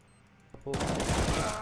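Rapid automatic gunfire erupts in a Counter-Strike match, a loud sustained burst following a couple of sharper single shots.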